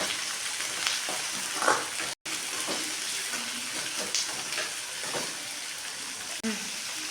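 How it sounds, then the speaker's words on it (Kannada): Tomatoes fry with brinjal in a pan, giving a steady hiss with occasional stirring scrapes and one brief dropout. Faint talk sits under parts of the sizzle. "ಟೊಮೊಟೊನ ಚೆನ್ನಾಗಿ ಫ್ರೈ ಆಗಬೇಕು."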